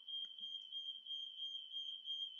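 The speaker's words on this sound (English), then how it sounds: "My alarm's going off." A smoke alarm sounds indoors, a faint, steady high-pitched tone that holds unbroken throughout, with only slight background noise.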